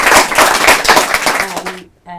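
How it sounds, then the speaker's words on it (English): An audience at a London event claps for a team, a dense burst of applause that ends abruptly, followed by a voice starting to speak. "Can we please give a huge thanks and round of applause to the Purple Tuesday team,"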